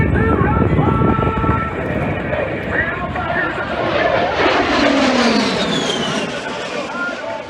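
A-10 Thunderbolt II turbofan jet engines roar loudly past at an airshow, a broad steady rumble whose pitch sweeps downward as the aircraft passes, with an announcer talking over it.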